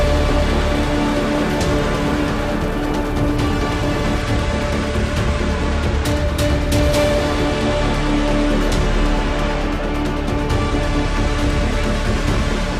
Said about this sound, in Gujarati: કેરળમાં ચોમાસાની ધોધમાર એન્ટ્રી